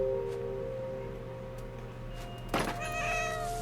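A cat meows once, loud and close, inside the video game What Remains of Edith Finch, breaking through a steady humming ambient backdrop with faint tonal drones.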